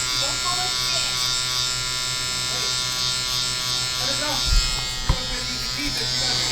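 A tattoo machine buzzes steadily and continuously throughout, a dense mechanical hum with a couple of brief knocks near the end, while people talk quietly over it.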